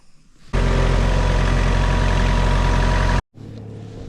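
A compact hydrostatic tractor's engine idles faintly, then a loud, steady, close mechanical roar runs for nearly three seconds before cutting off abruptly, and the idle returns more quietly.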